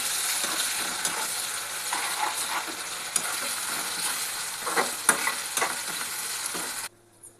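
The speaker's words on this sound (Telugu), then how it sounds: "జింజర్ గార్లిక్ పేస్ట్ వేసిన తర్వాత ఇది పచ్చి వాసన పోయేంత వరకు ఫ్రై చేసుకున్నాం" Ginger garlic paste fries in hot oil for a mutton curry, giving a steady, close broadband sizzle with scraping stir strokes throughout, until it stops abruptly near the end.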